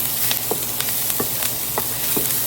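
Onions frying and caramelizing in a pan give a steady close sizzle with a bright hiss, broken by several soft clicks and scrapes as they are stirred.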